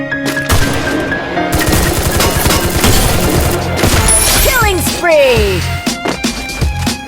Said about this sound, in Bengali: ডাবল স্নাইপার চালানি দেখো কিভাবে আমি ডাবল স্নাইপার চালাই